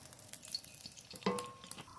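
Washed potato peels frying in mustard oil in a kadai, a soft continuous sizzle with stirring scrapes and a brief sharper metallic clink near the middle, close and quiet, no talking.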